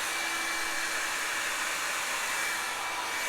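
A hair dryer blows steadily and loudly throughout while a brush is used to blow-dry hair straight with volume, a constant airy roar with no talking.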